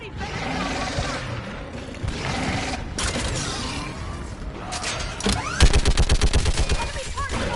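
Mounted gun in Mass Effect 3 opens fire, a rapid, loud string of evenly spaced heavy shots near the end, following a dense din of combat noise, mechanical clanks and creaks.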